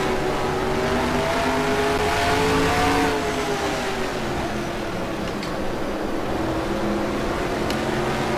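A NASCAR Racing 2003 race car engine from a 1967-season race drones loud and steady throughout, its pitch rising and easing slightly with throttle, with no talk.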